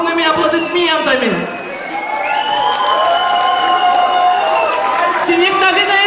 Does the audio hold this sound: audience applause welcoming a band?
yes